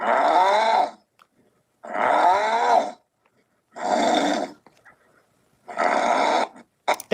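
Four long, deep, rasping growls of similar length, separated by short silences, followed by a brief clipped burst at the end; loud and close, with no talk.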